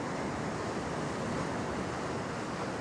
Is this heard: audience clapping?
no